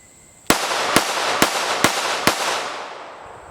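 Five evenly spaced gunshots from a Springfield Armory Echelon 4.0C Comp ported pistol crack sharply, about half a second apart, each ringing out with a long echoing tail.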